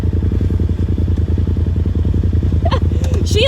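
Dirt bikes pass close by on an off-road trail, their engines buzzing in a steady rapid pulse with clattering; a high whine and brief squeaky sounds rise near the end.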